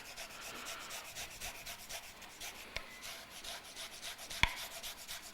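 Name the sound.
grating ginger with a grater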